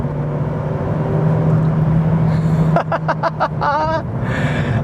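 A 2005 Ford Focus Mk2 drives along twisty roads with a steady, close engine and road drone. A short run of rhythmic ticking clicks comes near the end, and no voices are heard.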